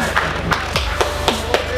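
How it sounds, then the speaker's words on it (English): A few people clapping in sharp, separate claps about a quarter second apart, close by and loosely rhythmic, with background chatter from an auto show floor. "So let's clap."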